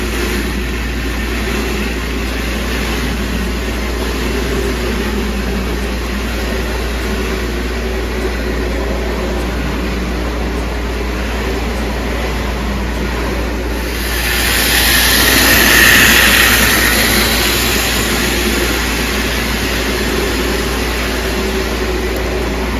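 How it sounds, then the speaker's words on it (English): Postwar Lionel-style 246 Scout toy locomotive pulling a string of heavy cars, giving a steady close motor hum and rumble that swells briefly in the middle. "Let's see if this little 246 Scout engine can pull them."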